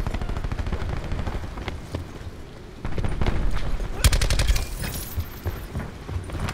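Rapid-fire gunshots in Black Ops 4 multiplayer, with scattered distant shots giving way to dense, loud bursts of quick automatic fire midway, mixed with other battle noise.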